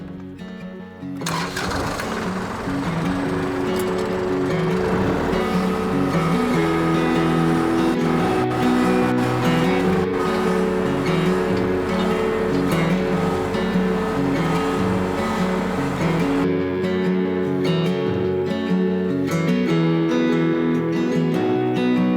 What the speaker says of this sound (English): I'm gonna get it tilled before we use that seeder and plant the sunflowers